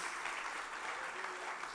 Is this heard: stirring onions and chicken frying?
no